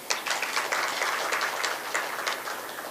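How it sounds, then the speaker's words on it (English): Audience applause at an International Women's Day 2020 event, a steady wash of many hands clapping with no voices over it, moderately loud and even throughout. "Please give a round of applause as I mention them."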